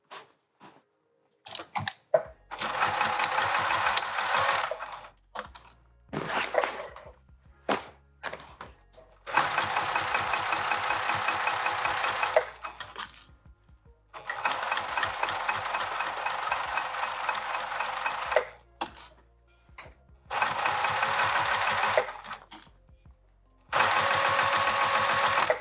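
Sewing machine stitching the gusset of a vinyl handbag, running in several steady whirring bursts of a few seconds each, separated by short pauses with small clicks and handling noises, close and clear.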